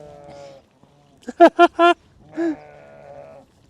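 Lambs in a village in Kars bleat close by, with three quick, loud wavering cries in a row and a softer bleat after them, while people speak quietly around them.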